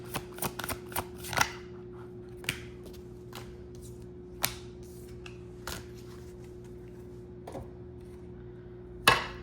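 Tarot cards are shuffled and drawn: quick flutters and crisp snaps in short clusters at the start, then sparse single card slaps over a faint steady hum, with a louder slap near the end.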